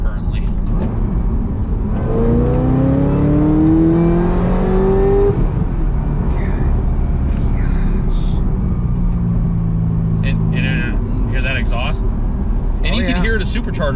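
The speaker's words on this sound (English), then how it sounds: "Yeah, you got the whine. Yeah, and it's a clean whine." Chevy Corvette C6 ZR1 with its supercharger whining as the engine revs, a rising tonal whine climbing over the engine rumble for a few seconds, with people talking throughout.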